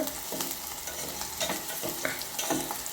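Chopped onion, green chilli, peanuts and urad dal fry and crackle in a pan on a gas stove, a continuous close sizzle with the rhythmic scrape of stirring running through it, no talk.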